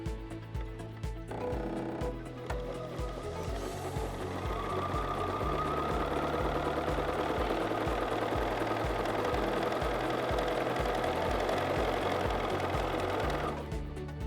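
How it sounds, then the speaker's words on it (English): A sewing machine runs a long, lengthened stitch across a test seam on an unfamiliar, difficult fabric, its steady mechanical whir close and loud, starting and stopping near the ends. "I've elongated my stitch length to about 3 or 3 1/4, and I'm just going to stitch."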